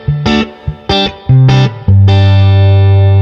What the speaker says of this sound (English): It's got a bit of splash back there with the reverb.